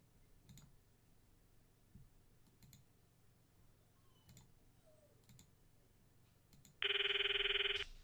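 A phone rings in the video game Steins;Gate: soft scattered clicks come first, then a loud electronic ringtone bursts in near the end and carries on steadily, with no voices.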